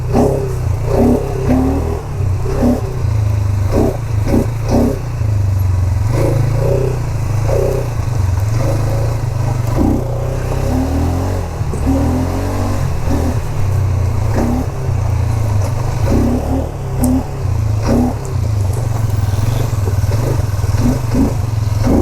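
A quad bike ridden at a river valley resort drones loud and close, its engine rising and falling in repeated revs with rattling over a constant low rumble.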